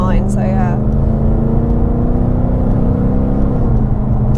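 A Ford Mustang GT 5.0 V8 with straight pipes drones loudly and steadily throughout, its deep engine note rising slightly in pitch near the end, with voices briefly heard near the start.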